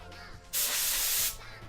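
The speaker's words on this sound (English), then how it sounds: "doesn't like the compressed air" A can of compressed air releases a single loud, steady spray hiss lasting under a second, starting and stopping abruptly against a quiet background.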